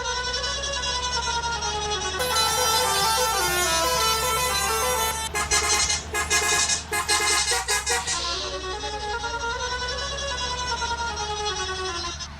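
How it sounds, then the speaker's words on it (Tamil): A bus horn in a driving video game blares repeatedly over a constant engine drone, with a long sustained honk followed by a rapid series of short toots before the steady hum resumes. "நம்ம சிட்டிக்குள்ளே நெக்ஸ்ட் மேப்பில் வந்த உடனே ஊரே தகர விடுறோம் ஹார்ன் அடிச்சு"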